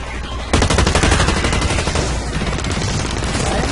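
A rapid automatic weapon fires in Blacklight Retribution, starting abruptly after a brief pause and continuing in a loud, fast, evenly spaced stream of shots that carries to the end.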